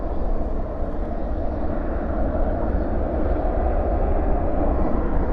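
An aircraft on a night repositioning flight at DFW airport rumbles steadily at a distance, a broad, even roar that neither builds nor fades.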